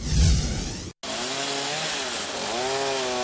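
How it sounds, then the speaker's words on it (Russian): A chainsaw cuts dead trees along city streets, starting with a loud burst, a brief cut-out, then a continuous revving whine that rises and falls in pitch. "Специалисты срезают сухостой, который представлял опасность как для пешеходов, так и для техники."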